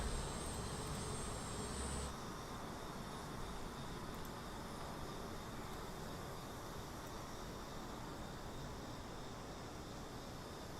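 Twin Beech aircraft passing in a Microsoft Flight Simulator flyby, a steady broadband engine drone that runs the whole time, with a higher whine cutting out early on.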